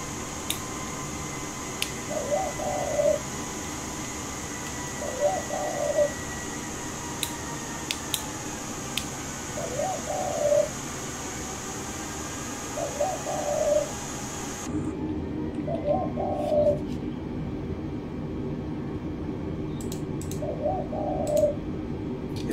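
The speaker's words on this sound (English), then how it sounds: "There's one cuckooing out the side of my window right now, and it is annoying" A bird calls outside a window in Australia, a soft two-note coo repeated roughly every two to three seconds, moderately near, over a steady background hum.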